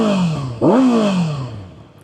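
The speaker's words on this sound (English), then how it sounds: "Little exhaust check." A 2024 Kawasaki ZX-6R sport bike in sport mode gives a single close exhaust blip: the engine note jumps sharply, peaks, then winds down smoothly over about a second, with no talk.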